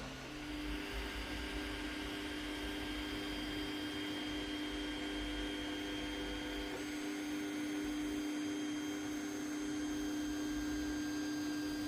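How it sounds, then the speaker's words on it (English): Steady mechanical whir and hum of an Ender-3 3D printer running continuously with tonal drones, no pauses or voices, fairly constant level throughout. "the printer is just going to get to the correct temperatures, and then it will start printing the bed tuning file"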